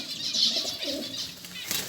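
Trained pigeons in an aviary coo softly and flap their wings close by in a short burst of fluttering and low calls.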